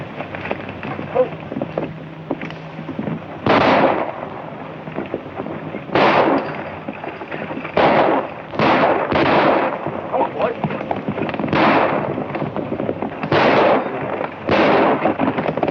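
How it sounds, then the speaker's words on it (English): Gunfire in a 1943 film battle scene comes as sharp, loud bursts of shots, some single and some in quick pairs, spread over a rumbling, noisy background. "I want you to fire over their heads."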